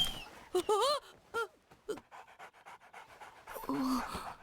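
A dog panting rapidly up close during a dog fight, with short whiny, breathy vocal bursts mixed between quick gasping breaths.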